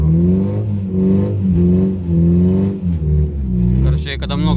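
Cynos EL44 drift car engine revving hard under throttle on a test track, a loud rising and falling drone with gear-like steps, with someone talking over it throughout.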